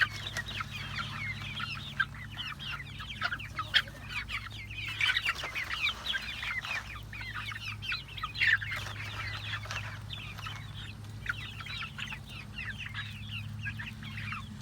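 Several chickens cluck and murmur continuously nearby, with scattered scratching and a low steady hum beneath.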